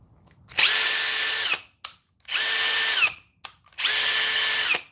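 A cordless hammer drill in drill mode whirs up loudly in three bursts of about a second each, winding up and stopping with short pauses between.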